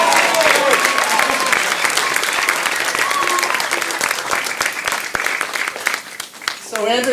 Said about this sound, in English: Round of applause for Tessa.